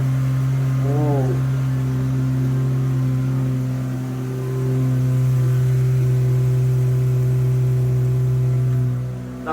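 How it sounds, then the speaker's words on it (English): An Aston Martin DB7 V12 fitted with a straight-through X-pipe exhaust idles close by with a steady, deep hum. A brief blip rises early, then the engine dips slightly and settles back to a smooth, even drone. "Now that sounds a lot more like a V12 Aston to me."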